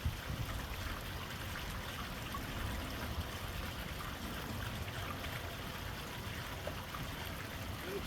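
Water pours and flows through a gold sluice box outdoors, a steady soft hiss and trickle that stays even throughout at low volume.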